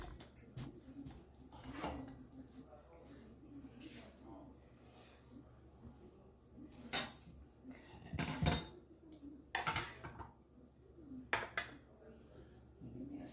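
Stuffing is spooned into mushroom caps in a pie dish, with scraping and soft clinks of a spoon against the dish in irregular bursts, close up, under intermittent talking.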